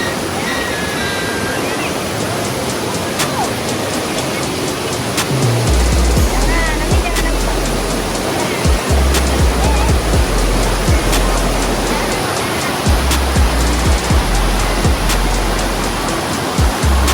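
A natural river runs beside riverside huts, a loud, steady broadband rush of water that fills the whole stretch with little change. Low rumbles come and go underneath, along with scattered ticks and faint background noise.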